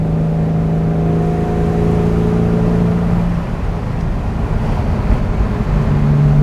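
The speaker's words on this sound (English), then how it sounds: "It's a real privilege to get to test drive a car like this." A 1963 Aston Martin DB4 engine hums steadily at close range during a test drive, its tone shifting and roughening midway as the revs change, with no talking.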